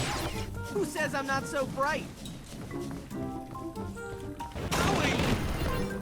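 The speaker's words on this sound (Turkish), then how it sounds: "Oha herkes alev topu atıyorum." Fireball attacks in a Ben 10 video game burst out as crackling, rapid explosive pops and whooshes, mixed with bright synthetic game effects and a final loud blast, while a voice talks over the action.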